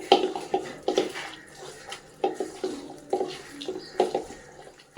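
Loitta (Bombay duck) fish being washed by hand in a bowl of water, with close splashing and sloshing that comes in rhythmic bursts roughly every second and no voices.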